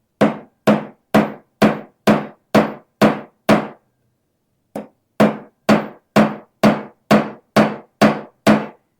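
A hammer strikes rivets to join a pair of blacksmith tongs, with a steady series of sharp metallic blows, a brief pause partway through, then another even run of hits, loud and close.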